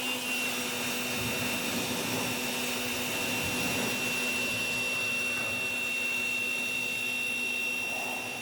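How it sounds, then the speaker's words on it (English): An electric power washer sprays the rear suspension of a BMW E46, a continuous steady hiss with a whining motor tone, close and loud, running alone without talk. "then I went after it with the power washer"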